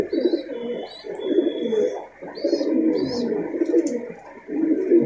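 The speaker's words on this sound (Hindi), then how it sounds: "ब्रिज में आ रहे हैं कबूतर" Low, throaty Malwai pigeon coos repeat in rolling bursts, close and steady, with a few faint higher chirps overhead, in Haridwar, India.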